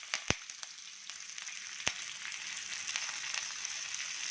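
Mustard seeds, chana dal, urad dal, cumin, a green chilli and curry leaves fry in hot oil as tempering, giving a continuous sizzle punctuated by sharp pops and crackles, close and alone.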